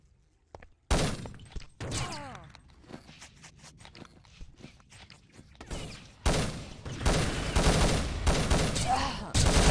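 Shooter video game gunfire crackles in sharp bursts and rapid volleys, with a grenade blast in a competitive match, loud close shots clustered near the end while a commentator talks over the action.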